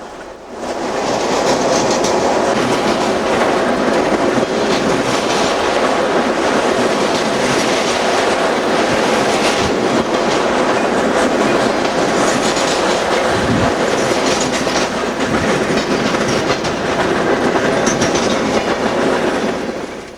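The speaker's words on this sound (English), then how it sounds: "The train is passing the General Motors headquarters and Detroit's new Amtrak depot." Loud, continuous rumble and clickety-clack of a Conrail freight train of boxcars rolling past close by in Detroit in winter, steady throughout with occasional metallic squeals.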